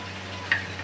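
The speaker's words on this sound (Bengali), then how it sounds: "এবার মশলাটা ভালো করে ভাজবে" Spice paste with turmeric and salt frying in oil for a bottle gourd and small fish curry, a steady soft sizzle with a brief scrape of stirring, close by.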